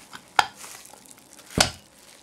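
Two sharp metallic clanks ring out about a second apart as a Turbo 400 transmission planetary gear set is flipped over on a bench, close and fairly quiet between the hits, with no talk.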